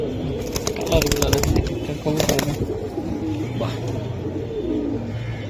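Giribaz pigeons coo in low, soft murmurs throughout, with someone speaking over them and brief rustling bursts near the start.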